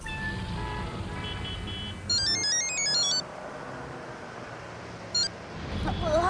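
A mobile phone ringtone in a Hindi TV comedy scene, with a bright repeating electronic melody that plays in short bursts over steady background sound.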